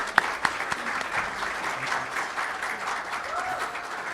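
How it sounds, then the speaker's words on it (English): Audience at an essay contest ceremony applauds, moderate clapping spread through the room, with a few sharp claps standing out near the start. "let's give him one more round of applause."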